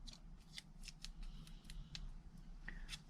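Scissors snip paper tulip shapes for a foiled 3D card front, a series of sharp, close cuts at irregular intervals over a quiet room.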